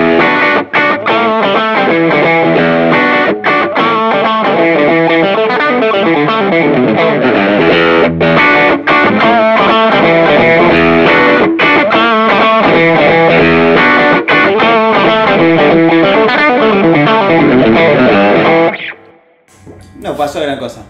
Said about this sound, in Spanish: Estoy sumándole señal posterior a esa distorsión.